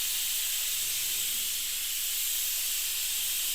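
A pressure cooker in a home kitchen vents a steady, unbroken hiss of steam that stays even and moderately loud throughout, with no distinct whistle blast standing out.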